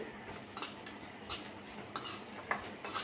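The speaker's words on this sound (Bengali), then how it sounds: "চামচটা দিয়ে নাড়িয়ে দিলাম" Spoon stirring ghee through chira pulao in a pot, a few light metallic clinks and scrapes spaced irregularly, fairly faint and close with no voices.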